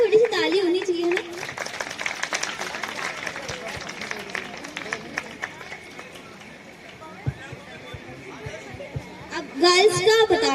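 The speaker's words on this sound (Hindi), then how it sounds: "और थोड़ी सी ताली होनी चाहिए ना" Clapping from a college fiesta audience at a freshers' award announcement, steady dense applause filling most of the stretch, with a voice talking over it near the start and end.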